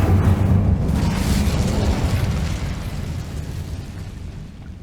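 Incendio fire spell blast in the video game Hogwarts Legacy, a loud, dense roaring burst with a deep rumble that fades slowly over a few seconds, with no voices.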